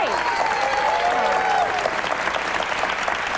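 A television studio audience applauds for a talk show guest, a dense and steady clapping that fills the room, with a voice speaking over it at the start.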